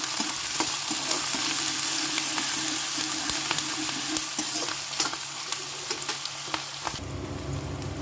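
Onions fry in hot oil and are stirred around the pan, producing a dense, crackling sizzle with frequent scrapes and knocks of the spoon before it eases slightly near the end.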